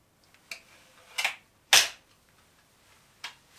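Diana 34 Premium air rifle fired over a chronograph in a quiet room: a few soft clicks, then one sharp near crack and a fainter later snap, no voices.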